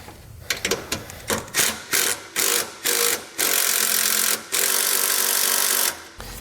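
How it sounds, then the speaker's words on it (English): Base plate bolts on a 2012 GMC Terrain are run snug with a powered wrench, giving a series of short whirring bursts that grow longer and end in two sustained runs, close and alone. "we're just going to snug up both of these bolts, and then we can torque them to spec"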